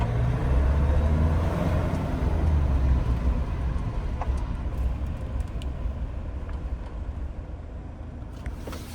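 A vehicle approaching on a road in Namibia, a low engine rumble loud at first that slowly eases, with faint ticks and knocks scattered over it.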